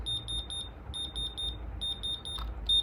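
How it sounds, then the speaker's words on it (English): A diamond tester beeps in quick repeated pulses while checking the stones on an iced-out AP watch. The groups of three to four bright, close tones come in separate bursts, with a brief rustle near the end. "Each and every stone is passing the diamond tester, as you can see."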